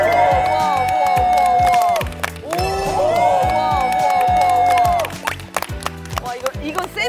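A small group claps and cheers indoors on a parenting-themed variety show, with quick rhythmic clapping and whoops mixed with background music and excited voices.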